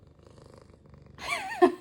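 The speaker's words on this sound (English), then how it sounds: "She is purring so loudly." A cat purrs close by at home, a low, steady rumbling pulse, then breaks into a short, loud, wavering meow-like call near the end.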